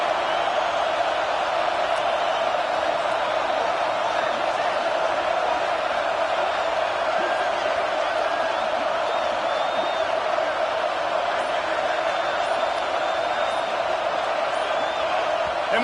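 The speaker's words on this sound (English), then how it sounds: "And with this place rocking, the crowd forces a false start" Football stadium crowd at a USC versus Oregon game roaring continuously, a dense, steady wall of noise with occasional whoops rising out of it.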